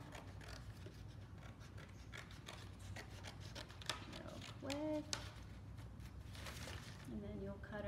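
Scissors snip through paper while cutting out a paper seed house for a Jack and the Beanstalk craft, giving a run of close, quiet, irregular cuts beneath a voice talking.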